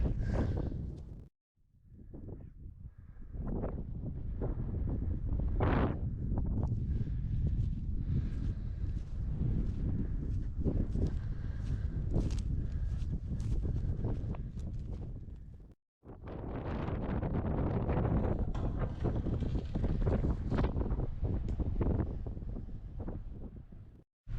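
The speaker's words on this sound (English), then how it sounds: "the wind's just ice cold blowing through" Ice-cold wind blows hard across a snowy open site above a Cold War underground bunker in Scotland, a loud, steady roar buffeting the microphone with gusty rumble, broken by two brief drops near the start and midway.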